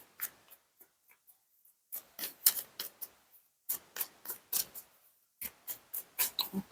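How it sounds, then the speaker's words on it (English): A run of quick, crisp papery slaps and riffles in short bursts with pauses between, close up, as a tarot card deck is shuffled by hand. "This deck I can shuffle this way."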